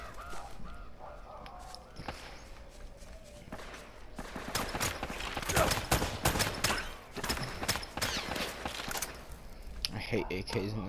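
Bursts of AK rifle fire in Uncharted: Drake's Fortune, sharp automatic rattles clustered in the middle, mixed with game effects and a speaking voice under and around the shots.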